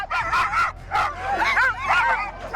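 Sled dogs at a race start line yelp, bark and whine excitedly in overlapping bursts, close and loud, a frantic chorus of several dogs together.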